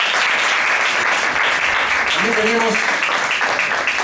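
An audience at an orchestral concert gives a performer steady, dense applause throughout, with someone speaking Spanish over the clapping.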